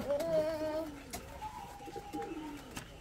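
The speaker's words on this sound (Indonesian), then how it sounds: "contoh merpati jawa ya mungkin speknya ya ini" A Javanese pigeon coos close by in drawn-out, gently wavering calls repeated a few times, with faint voices in the background.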